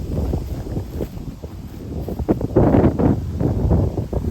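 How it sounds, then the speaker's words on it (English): Wind buffets the microphone at the eastern abutment of the Lehigh and New England Lehigh Gap railroad bridge near Palmerton, a loud continuous rumbling roar that swells and gusts throughout. "Get out of this wind a little bit."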